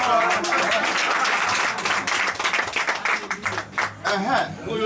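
A crowd claps steadily for the bride at a traditional marriage ceremony, the sound dense and close, with voices talking over it and the applause thinning toward the end.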